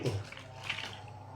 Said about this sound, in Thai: เอามือบีบน้ำปุ้งปุ้งปุ้งปุ้งน้ำไหลออกมาแล้ว